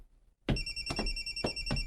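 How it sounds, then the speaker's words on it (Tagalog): Cellphone ringtone for an incoming call, starting abruptly after a short silence and repeating in a steady electronic pattern of bright tones with rhythmic pulses, close and clear with no talk over it. "Nganong mo mong tubagay mong cellphone?"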